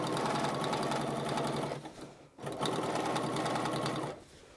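A sewing machine understitches the facing of a dress, running in steady continuous bursts with a brief pause in the middle before resuming, close and loud.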